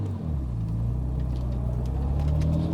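A Jaguar E-Type's XK engine pulls on an open road, a deep continuous rumbling drone with rising engine tones, heard from inside the car, steady and fairly loud throughout.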